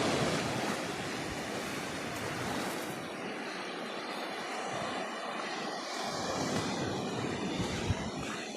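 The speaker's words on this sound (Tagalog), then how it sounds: "Ayan ang dagat, oh" Steady broadband roar of surf washing onto a beach at Bolinao, Pangasinan, continuous and fairly loud, with a windy rushing quality throughout.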